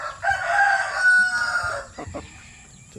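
A Basilan native chicken crows once nearby, a loud drawn-out call, followed by a few soft clucks and handling noises.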